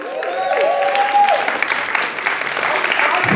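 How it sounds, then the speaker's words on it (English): Crowd applause for the DJ at a ball, a short burst of clapping and cheering with a voice over the start, moderately loud throughout. "Can I get a round of applause for the DJ?"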